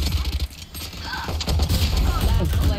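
Gunfire in the video game Valorant, heard as sharp repeated shots mixed into a busy match soundscape, with players talking over it.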